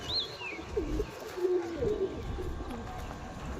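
Pet pigeons of the Jamuni panja kind give low, faint coos near at hand, with a couple of higher chirps from other birds early on over a quiet background hum.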